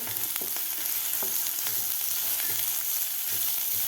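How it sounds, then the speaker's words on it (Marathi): Chopped onion frying over high heat for a jowar flour vegetable soup: a steady, dense sizzle throughout, with occasional light scrapes of a stirring spoon, close and with no talking. "आता कांदासुद्धा आपल्याला मोठ्या गॅसवरच परतून घ्यायचा आहे."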